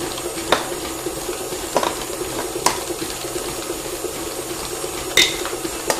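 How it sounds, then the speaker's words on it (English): Eggs cracked into a mixing bowl while making a pumpkin spiced latte cake: a handful of sharp, quiet taps spaced irregularly over a low background hum, with no voices. "let's just crack the 3 eggs into the bowl"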